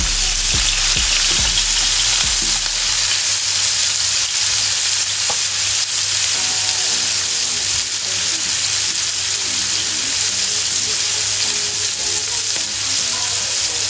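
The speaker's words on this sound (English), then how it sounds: "We're gonna go in with just a little bit of oil in our griddle pan, swirl it around." Oil for chilli and garlic butter prawns hisses loudly and steadily in a griddle pan, a dense, close, continuous sizzle with a few soft knocks early on and no voices.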